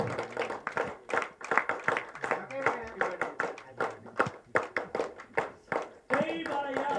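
A crowd at a movie trailer launch event claps in rhythmic bursts on a count, sharp grouped claps alternating with a voice calling over a microphone.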